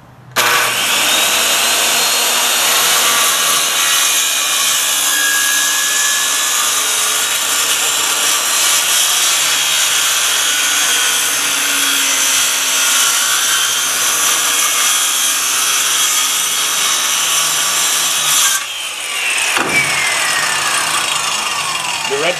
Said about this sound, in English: I'm going to show you that plunge cut one more time, just so you can get a good idea how it's done.